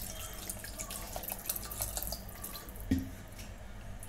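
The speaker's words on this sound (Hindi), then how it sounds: "अब इसमें हम डालेंगे पानी," About half a glass of water pours steadily into a cooking pot of mixed moong moth in a home kitchen, a continuous splashing flow with one small knock near the end.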